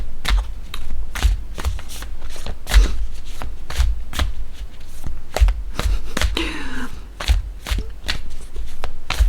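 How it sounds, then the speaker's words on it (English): Tarot cards shuffled and pulled from a deck for a pick-a-card reading: a steady run of crisp, close riffling snaps and flicks, with a brief softer sliding shuffle partway through, no voice over it. "let's pull some cards"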